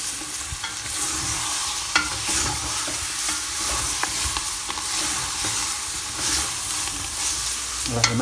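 Onions sizzle loudly in oil in a pot as they are stirred, while couscous is being cooked. The frying is steady and continuous, with scraping stir strokes on top and no voices.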